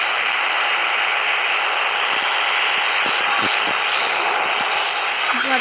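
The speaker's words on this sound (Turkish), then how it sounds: "Evet çaldı bizim helikopteri." A helicopter in a video game gives a loud, steady engine roar that holds for several seconds, with a few soft clicks beneath it.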